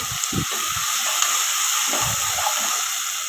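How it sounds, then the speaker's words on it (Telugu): Ginger garlic paste frying in a pan for mutton biryani, a steady bright sizzle and hiss running throughout, with a few soft low knocks underneath. "అల్లం వెల్లుల్లి పేస్ట్ వేసుకొని కొద్దిగా వేగాలి."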